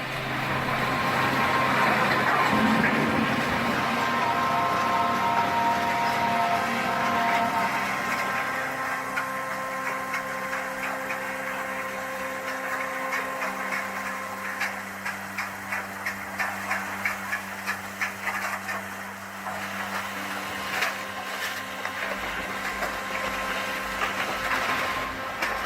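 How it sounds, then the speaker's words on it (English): A stainless steel scrap shredder works heavy metal with a loud mechanical drone, grinding and intermittent rhythmic clanks and crunches, close and continuous, with no talking. "listen to a stainless steel shredder at work"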